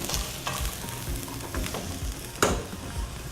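Garlic and onions fry in a hot pan, a steady sizzle broken by the scrape and clatter of stirring, with one sharper knock near the end.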